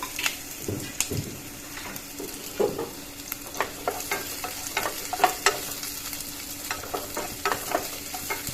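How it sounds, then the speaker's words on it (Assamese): Ground skunk vine and onion paste fries in hot oil in a wok. A soft sizzle runs under sharp scraping and stirring clicks that come again and again. "ইতিমধ্যে কেৰাহীটো তেল গৰম হ'বলৈ দিছোঁ ইয়াতে এতিয়া পেষ্টখিনি দি দিছোঁ"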